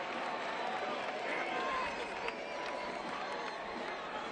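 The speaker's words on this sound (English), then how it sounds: "Crowd comes alive for Leo Fernandez, the in-swinger" A stadium crowd at a Tampa Bay Rowdies versus Memphis 901 FC soccer match gives a sustained roar of cheering as a corner kick is taken, heard from a distance beneath a commentator's voice.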